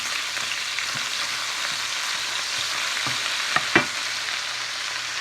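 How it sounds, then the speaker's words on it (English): Authentic Chinese rice frying in anchovy grease in a pan, a loud, constant close sizzle broken by a few soft stirring knocks and one brief scrape. "So I add some anchovy grease just to make sure that it's gonna fry up a little better."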